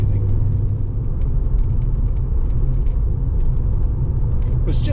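A 1991 Porsche 928 S4 cruises along a scenic road, its steady engine drone and road rumble filling the cabin at a constant level with no notable changes.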